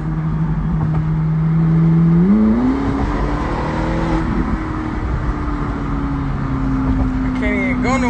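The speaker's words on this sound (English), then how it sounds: "Y'all hear that f***ing engine?" A Lamborghini engine revs with a rising whine over a steady, loud roar, heard from inside the car in traffic.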